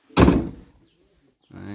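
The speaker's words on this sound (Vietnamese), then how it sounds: "tiếng mở cửa anh em thấy không?" Cab door of a 2008 Hitachi Zaxis 75US excavator opens with one solid latch clunk and a short rattle, close up, followed by silence and a brief voice.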